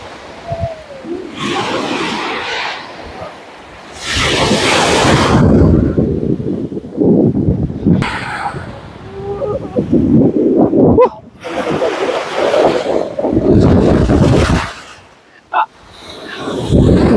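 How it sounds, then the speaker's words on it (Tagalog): Strong ocean waves crash on a windy Boracay beach in loud, broad surges that swell and fade every few seconds, with heavy wind buffeting the microphone between breakers. "Malakas yung alon, no?"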